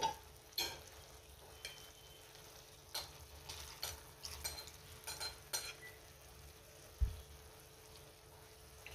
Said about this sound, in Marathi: 2 मिनिट आपल्याला मशरूम चांगले परतून घ्यायचे